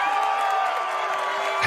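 Crowd cheering sound effect: a steady roar of cheering voices with faint whoops and scattered clapping, sustained and fairly loud with a small burst near the end.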